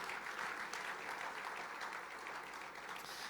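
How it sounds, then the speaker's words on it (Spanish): Church congregation applauding in praise to the Lord, a steady dense clapping held at even strength throughout without pause. "Fuerte ese aplauso de alabanza al Señor."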